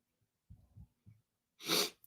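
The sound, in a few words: sneeze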